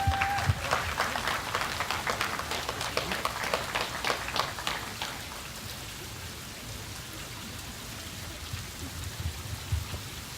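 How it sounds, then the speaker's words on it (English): Wedding guests applaud after the couple's vows, a dense wash of clapping over the first five seconds that thins and fades to a quiet room. "But a round of applause for their vows, everybody."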